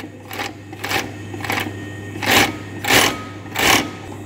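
Kansai special industrial sewing machine running in short bursts, about seven whirring stitching runs separated by brief pauses, the later ones louder, over a constant low motor hum.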